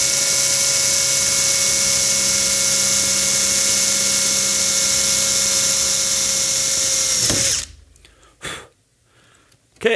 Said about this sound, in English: switch up to your rivet or bolt size drill bit, in my case a 3/16 to open the hole up